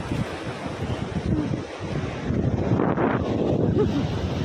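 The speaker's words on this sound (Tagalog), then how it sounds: "May malakas yung alon." Strong waves roll in at a beach in Kamisu, Ibaraki, Japan, a dense continuous roar of surf mixed with heavy wind buffeting on the microphone, swelling louder toward the middle.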